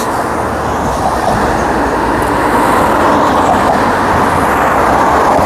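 A test train runs on the Thornlie-Cockburn rail line near Carlisle station in Perth, a steady, continuous rumble that holds level throughout with no pauses or talk.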